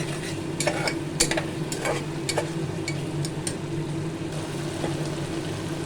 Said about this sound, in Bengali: টমেটো পেস্টটা কষিয়ে নেব